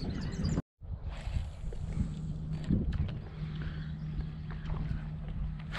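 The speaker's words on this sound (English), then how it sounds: "and man, that wind is blowing." Strong wind buffets the microphone on open water during inland redfish fishing, a steady loud roar with a brief dropout early on and faint splashing underneath.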